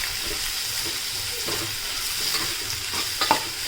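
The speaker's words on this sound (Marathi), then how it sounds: "आता कांदासुद्धा आपण तेलामध्ये चांगला परतवून घेऊयात" Chopped onions sauté in oil with a continuous gentle sizzle, broken by light stirring scrapes and clinks near the end.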